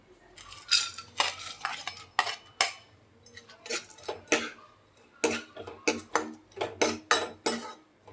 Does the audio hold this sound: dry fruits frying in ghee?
yes